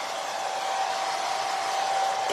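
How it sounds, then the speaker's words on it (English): A blow dryer runs steadily, drying a galvanized watering can, its airy whoosh carrying a constant motor whine, loud and close throughout with no one speaking. "let me just put a blow dryer on it for a minute"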